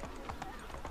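Horse hooves clip-clopping in Assassin's Creed 3, set in Boston, a quick run of close, fairly loud hoofbeats over a steady busy game background.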